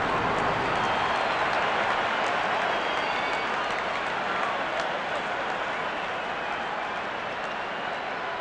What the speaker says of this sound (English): And the crowd cheering in anticipation.